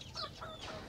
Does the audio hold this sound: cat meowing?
no